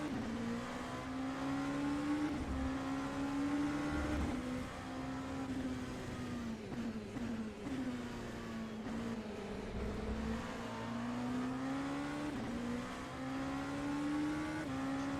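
Race car engines in a racing video game, an LMP2 and GTE endurance race at the Daytona road course: a continuous droning engine note rising and falling with gear changes and revs, close and steady throughout, with no talk.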